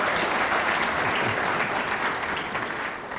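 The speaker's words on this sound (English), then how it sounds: "Oh, go ahead and clap." Dense, sustained applause from an audience at a chamber of commerce awards ceremony, loud and even throughout with no gaps, easing slightly toward the end.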